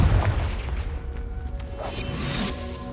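A Confringo blasting spell explodes in Hogwarts Legacy with a loud, booming burst and deep rumble, followed by a rolling whoosh and lingering crackle that fades over a few seconds, with no talking.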